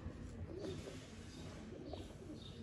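Soft cooing of Sialkoti pigeons murmurs in short repeated phrases, fairly quiet and close, over a faint background hum.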